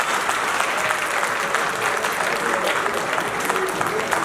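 Wedding guests at an official civil marriage ceremony break into sustained applause, a dense, even wash of many hands clapping close by.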